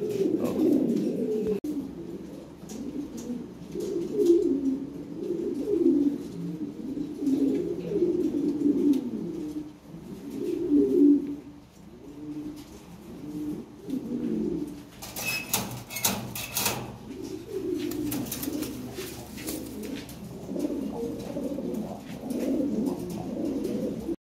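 Lahore siraji pigeons coo in a continuous, overlapping chorus of low throaty calls close by, with a burst of wing flapping partway through.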